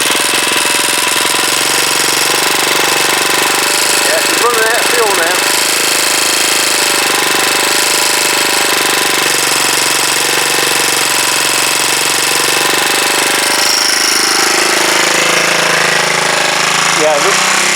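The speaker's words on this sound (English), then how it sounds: "the reason that they rev up when they're running out of fuel" A Huoniao HN125 engine running loud and close as it runs out of fuel, a continuous buzzing drone that climbs in pitch with a couple of brief pitch swoops, no talk over it.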